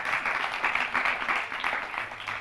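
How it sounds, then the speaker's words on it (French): An audience applauds the Minister of National Education at a school prize ceremony, with steady mid-level clapping that goes on throughout and gentle swells. "je vous demande d'applaudir, s'il vous plaît"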